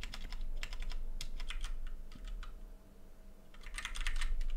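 A computer keyboard being typed on to enter a name in Roblox Studio, with quick uneven clusters of soft key clicks and a short pause midway, close and fairly quiet over a low hum.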